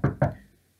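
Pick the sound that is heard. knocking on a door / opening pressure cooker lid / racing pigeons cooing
knocking on a door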